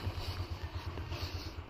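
Royal Enfield Bullet motorcycle ridden out on a cold morning street, its single-cylinder engine thumping in a steady, even low rhythm, fairly near and moderately loud.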